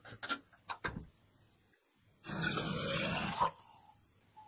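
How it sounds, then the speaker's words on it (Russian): Tap water runs from a bathroom faucet into a thermos for a leak test, a brief rushing pour of about a second after a few faint knocks and handling sounds, fairly quiet overall. "Набираю просто воды из-под крана и проверяю на протечки."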